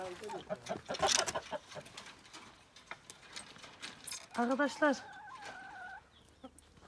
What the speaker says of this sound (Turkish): şu an tavuklarımı biraz yaydım